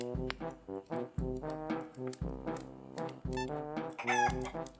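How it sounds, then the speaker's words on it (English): Wild chickens in a video game cluck repeatedly in short, close, clipped calls with brief pauses, and a longer crowing note rises near the end. "I'm just going to capture these wild chickens"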